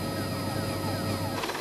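A rescue helicopter hovering over the sea, a steady close rotor drone with a rapid thumping pulse and engine whine filling the short stretch.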